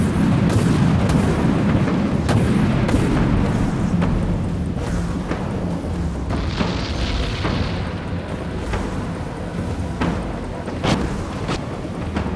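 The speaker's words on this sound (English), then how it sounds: "Torpedo launched." A warship in the video game Dreadnought fires off a torpedo amid repeated heavy booms and sharp blasts, a loud rumbling barrage with a hissing whoosh in the middle, no voices.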